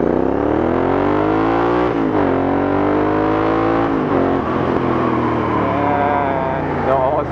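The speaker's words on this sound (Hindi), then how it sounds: "Crackles and pops." A Royal Enfield Interceptor 650 fitted with an aftermarket Red Rooster exhaust revs loudly and close up, its steady engine drone rising and falling through several throttle blips, with faint crackles and pops as the revs drop.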